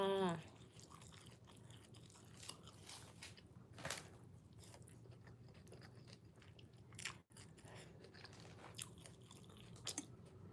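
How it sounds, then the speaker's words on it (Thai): Khao pun rice noodles being eaten up close, with soft biting and chewing and occasional crunches repeating steadily and unhurried, and no one speaking. "มากินข้าวปุ้นแล้วจ้า"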